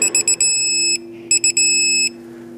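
A digital torque wrench set to 18 foot-pounds on a spark plug in a 2012-2017 Toyota Camry 2.5L beeps loudly and closely, first in several short pulses, then in two longer tones.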